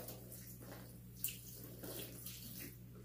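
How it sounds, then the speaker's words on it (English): Hot water pours onto a coconut substrate block, giving a continuous gentle splashing and trickling with a few brief louder splashes, heard close and without talk. "I will pour the hot water"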